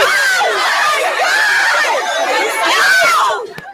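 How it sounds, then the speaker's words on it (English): A dense crowd of Black Friday shoppers crushes into a Victoria's Secret Pink store in Chattanooga, with loud continuous screaming and excited chatter from many people, dropping off abruptly at the end. "Look at this crush of shoppers in a Chattanooga Victoria's Secret pink store."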